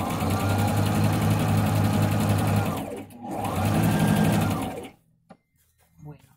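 A sewing machine stitching a half-centimetre patchwork seam, running in a steady fast whir for about three seconds, pausing briefly, then running again before stopping, followed by faint handling sounds.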